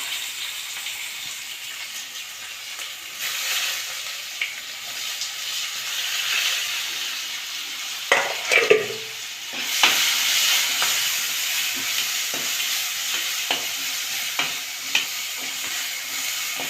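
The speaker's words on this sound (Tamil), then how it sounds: "வெங்காயம் வந்து நல்லா ஃப்ரை ஆகணும்." Onions frying in oil left over from frying potatoes, a steady hiss and sizzle with occasional stirring clatters from a spoon in the pan.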